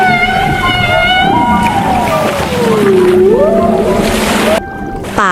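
A white beluga whale sings underwater in long rising and falling whistles with harmonic overtones, steady watery rush behind, and the calls break off sharply near the end.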